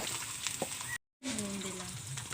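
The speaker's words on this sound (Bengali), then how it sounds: "তো বন্ধুরা এখন এই তেলে কিন্তু বেগুন ভাজবো।" Eggplant goes into hot oil and fries with a steady, dense sizzle. The sound stops briefly for a moment, then the bubbling crackle comes back strong and close.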